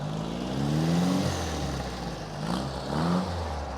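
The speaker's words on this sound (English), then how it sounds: "Giorgio, rev the engine for me," A 1960 Volkswagen Beetle engine revs twice in close range, each climb in pitch falling back to a steady idle between bursts, with no talking.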